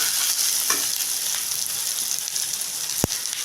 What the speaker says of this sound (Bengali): ক্যাপসিকাম দিয়ে দিলাম। ক্যাপসিকামটা একটু নেড়ে নেব।